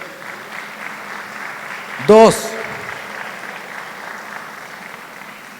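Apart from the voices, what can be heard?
applause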